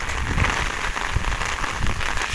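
Sudden heavy rain pours down outdoors, a dense steady hiss of drops drumming on surfaces with no break, loud and close throughout.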